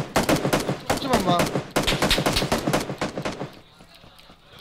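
Rapid automatic gunfire in the battle royale game PUBG (Battlegrounds), loud bursts of sharp repeated shots with brief gaps, under a voice speaking Korean, fading near the end.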